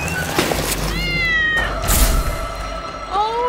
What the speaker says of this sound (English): Oh, don't hurt the kitty.